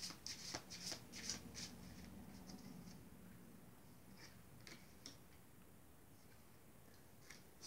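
A deck of cards shuffled during an energy reading, with quick close riffling flutters at the start that thin out into sparse, soft ticks and taps. The sound is faint throughout and no one speaks.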